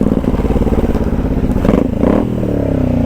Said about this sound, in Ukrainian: двигунчик взагалі робить чистесенько, вихлоп то чути